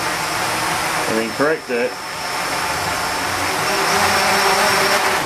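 Tricopter motors whine loudly and continuously as they throttle up, a dense close mechanical drone, with someone speaking briefly over it.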